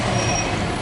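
A city bus on a street in Seville, Spain, passing close by as a steady, loud engine rumble and road roar with no pauses.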